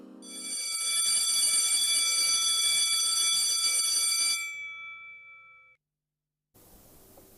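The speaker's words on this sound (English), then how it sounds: "the school bell has rung" An electric school bell rings loudly and continuously for about four seconds, a bright metallic clanging, then stops and leaves a short silence before faint room noise.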